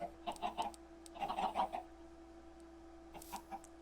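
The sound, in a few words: chickens clucking in Minecraft (MineColonies modpack) video game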